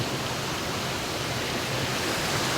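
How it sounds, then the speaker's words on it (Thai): Water of the Tham Phu Soda waterfall pours steadily over rocks in a natural forest, a dense, even rush of noise that stays constant throughout with no voices. "ไหลลงมาไหลลงมาครับ ไหลลงมาจนเป็นน้ำตกถ้ำโซดาครับ"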